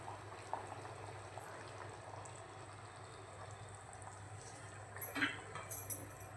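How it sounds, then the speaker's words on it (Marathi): A Malvani-style curry of black-eyed peas, potato and brinjal starting to boil in a pressure cooker pot, a faint low bubbling simmer with a few soft plops, close but quiet. "उकळी यायला बघा सुरुवात झाली"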